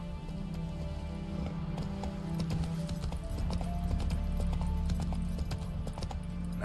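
Galloping horse hooves from The Witcher 3 video game, a steady clip-clop rhythm of close hoofbeats over a dense game soundscape with music, lasting throughout.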